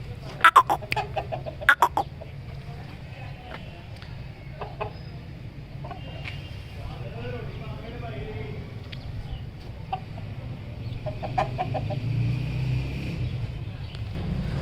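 Aseel chickens let out a few sharp clucks early on, then scattered softer clucks over a steady low background hum, fairly close and moderately loud.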